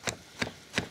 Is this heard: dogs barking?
no